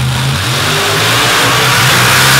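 Drag race cars tearing down the track at a Gore Springs event: a loud, close, roaring engine howl that holds high revs across a short burst, with no talk over it.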